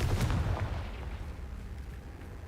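A Confringo spell blast fired in Hogwarts Legacy, a booming explosive burst up front that tails off into a lingering rumble.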